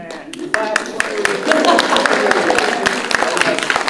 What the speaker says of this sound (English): nothing feels better than when we request our own applause